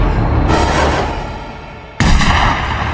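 A gunshot in the horror film The Amityville Horror (2005): a loud blast that decays slowly, followed by a second sharp, heavy shot a moment later.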